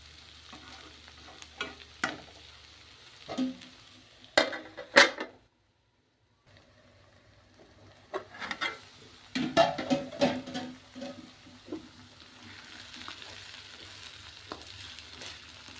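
Okra fries in a pan with a soft, continuous sizzle broken by bursts of stirring and scraping, a short silent gap partway through, then busier clattering toward the end; close and fairly quiet, with no speech.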